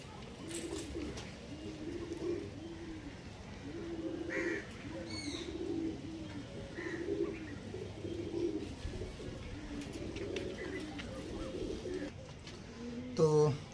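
Pigeons coo in repeated soft, rounded phrases at close range, with a few brief chirps and light rustling between the calls, fairly quiet overall and without talking.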